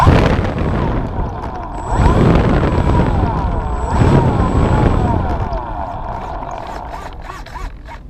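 RC airplane motor buzzing as it flies, a nasal whine that swells and fades as the plane passes overhead, loud at times against breezy outdoor noise.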